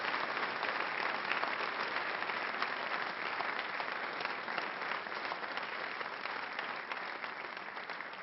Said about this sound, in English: can we have a big round of applause for our 2015 Gordon Larson Scholarship winners?